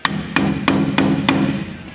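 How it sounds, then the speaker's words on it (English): Five sharp hammer strikes evenly spaced about a third of a second apart, each with a short metallic ring, tapping a 50-gram wheel weight onto a rim at a wheel balancer, close and clear with no talk. "you'll hammer your 50-gram weight at the 12 o'clock position"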